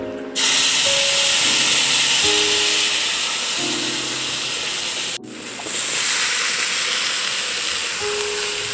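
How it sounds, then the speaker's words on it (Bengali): A water-thinned spice paste is poured into a hot kadai, setting off a loud, steady, close hiss of sizzling and steam that runs almost unbroken, with one brief dip partway through, and no voices. "তারপর আস্তে আস্তে কড়াইয়ের মধ্যে ঢেলে দেব।"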